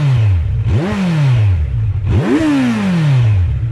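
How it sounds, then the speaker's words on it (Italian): A 2019 Kawasaki Z900 motorcycle engine with a stock Euro 4 exhaust revs twice, each blip rising quickly and then falling back to idle, loud and close with no talk. "Il motore purtroppo a causa dell'Euro 4 è un pochino soffocato in termini di suono"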